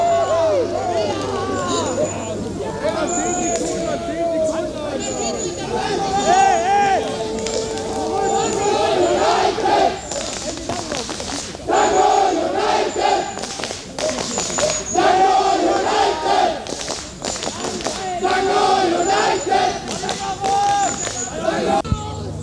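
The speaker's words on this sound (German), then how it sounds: "Das muss der Sieg sein! Die Zuschauer stürmen den Platz!" Football spectators storming the pitch after a 5:4 win, a crowd of running, shouting fans heard as loud excited hubbub with whistles and cheers, with many voices calling out throughout.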